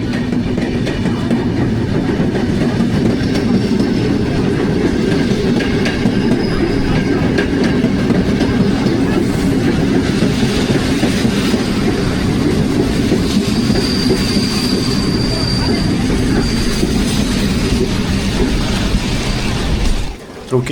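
A passenger train on the Szczecin–Mockava route across Poland runs on rails in deep winter cold, a loud continuous rumble with rhythmic clickety-clack and faint wheel squeal, heard close from inside for about twenty seconds.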